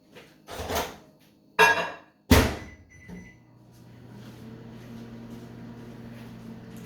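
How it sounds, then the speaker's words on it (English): A few thuds and clicks of a door and button, then a microwave oven starts up melting butter with a low steady hum and whir. "I'm going to melt it in the microwave for 1 minute"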